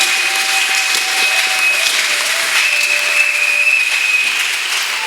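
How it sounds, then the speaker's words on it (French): A church congregation clapping after a scripture reading; loud, dense and continuous applause from many hands, close and even throughout, with a faint tonal hum beneath. "Applaudissons pour la parole du Seigneur"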